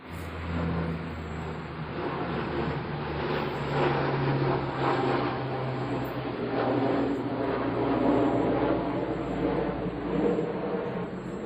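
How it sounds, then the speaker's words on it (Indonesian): A steady broad engine roar from an airplane passing overhead holds for several seconds, with a low droning hum beneath and a slight swell midway. No one speaks over it. "Ada pesawat."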